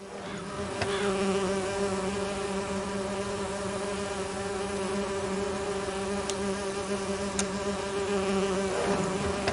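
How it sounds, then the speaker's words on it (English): Bees buzz steadily around an artificial hive in an Agatha Christie video game, a dense continuous drone with no talk over it. "I need to subdue the bees first. They'll do me in for sure if I disrupt their artificial home."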